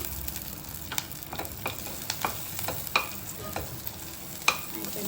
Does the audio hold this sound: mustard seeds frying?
yes